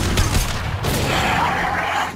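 A burst of explosions and rapid gunfire-like blasts in Mass Effect 2, loud and close, with a sharp boom near the start followed by sustained crackling rumble.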